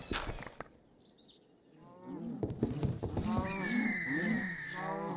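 Cow mooing in the Minecraft modpack RLCraft, several drawn-out lowing calls back to back at moderate loudness, with brief game sounds and faint chirps mixed in.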